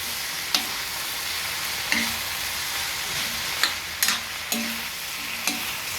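Food stirred with soy sauce in a pan, several sharp scrapes and clinks of the utensil against the pan spaced out over a soft, steady sizzle, heard close with no talking.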